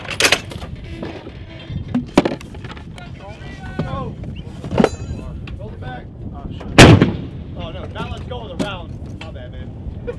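An M119 howitzer firing live rounds at a field artillery range produces several loud, sharp booms, the biggest near the end, amid outdoor wind noise and soldiers shouting commands.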